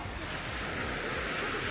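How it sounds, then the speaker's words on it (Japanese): Surf washes steadily onto the shore at Ōno Beach (Hirota beach), Rikuzentakata, on the Sanriku coast in summer: a continuous, close, full wash of waves mixed with wind rumble across the microphone, with no break. "ここは大野海岸です"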